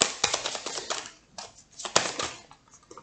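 A tarot card is laid down on a table during a reading, producing a few crisp close taps and papery slaps in quick irregular succession, with no speech.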